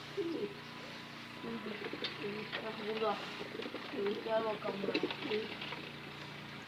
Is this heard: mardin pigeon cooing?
yes